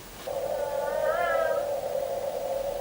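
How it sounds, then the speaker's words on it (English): A baby monitor gives off a steady mid-pitched electronic tone with a brief wavering, chirp-like overlay, fairly quiet and continuous, heard alone in a room. "It's the sound of my monitor."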